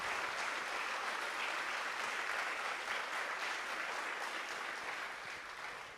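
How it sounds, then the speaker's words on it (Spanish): A church congress audience applauds to welcome guests, a dense, sustained clapping that holds steady before easing slightly at the end, with no voices over it. "Aplauso de bienvenida también."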